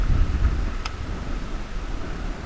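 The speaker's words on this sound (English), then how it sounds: "But this wind is swirling in every which direction." Swirling outdoor wind buffets the microphone with a steady low rumble during a bass fishing outing. It is loud and close throughout, with a faint brief tone near the start.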